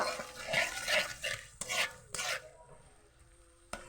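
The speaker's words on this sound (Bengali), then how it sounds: "টক দইটা দিয়ে দিয়েছি, দিয়ে ভালো করে আমি মিশিয়ে নেব।" Sour yogurt being stirred into a dish in a pan, a series of close, rasping scrapes and rubs of a spoon against the pan, ending in quiet with one last knock.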